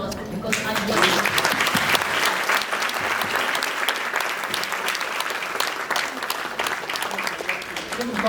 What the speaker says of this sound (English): Can you stand up and get an applause because I'm here?